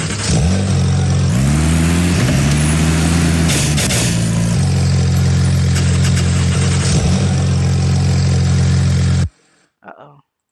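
A simulated car engine in a coded program drones at a steady idle with a few brief revs early on, then cuts off abruptly near the end, leaving a short faint sound.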